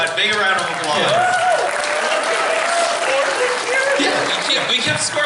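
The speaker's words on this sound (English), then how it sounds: "Big round of applause." A convention game show audience bursts into loud, dense applause that holds steady throughout, with a voice talking over the clapping crowd.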